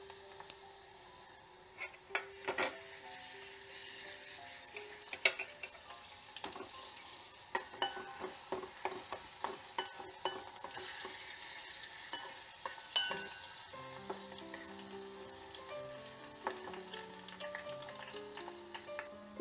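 Hibiscus flowers fry in oil over a low flame, a steady soft sizzle with scattered pops and crackles running throughout, fairly close and alone.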